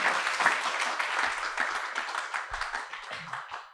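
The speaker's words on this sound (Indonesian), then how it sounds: "berarti tepuk tangan dulu dong untuk Ihsan." A crowd applauds warmly, dense clapping that gradually thins and fades out over a few seconds.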